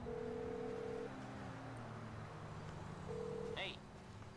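A phone call to Lester in GTA V on PC: steady electronic ringing tones and dial beeps sound faintly, broken by a short chirp near the end, with quiet game ambience underneath.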